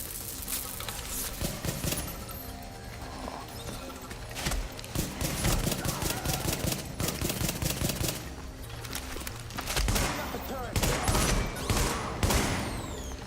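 Gunfire in the shooter game The Division, dense overlapping bursts and rapid automatic shots crackling throughout, loud and busy with layered impacts and effects.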